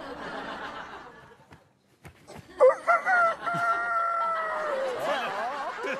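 A man imitates a rooster's crow with his voice, a rising, wavering cock-a-doodle-doo call held for a couple of seconds after some talking and a brief pause.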